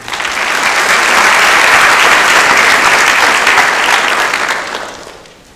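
Loud, sustained applause from an audience honoring inductees at a National Honor Society induction ceremony, a dense, even wash of clapping that holds steady for several seconds before fading out.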